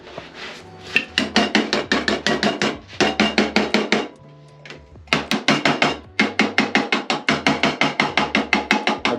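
A hammer taps a lid down onto a paint can in quick bursts of sharp metallic knocks, several runs of rapid strikes separated by short pauses.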